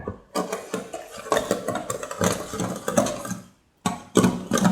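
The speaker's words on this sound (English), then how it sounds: "Use a whisk or spoon to nicely mix all the ingredients, the eggs, the sugar, and the" Eggs, sugar and banana are whisked together for banana pancake batter, a busy run of close, rapid scraping and clinking strokes with one brief pause near the end and no talk.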